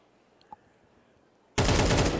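Gunfire in a Counter-Strike 2 firefight at a LAN match: a quiet stretch with one faint pop, then a sudden loud, dense burst of rapid automatic fire that fills the end.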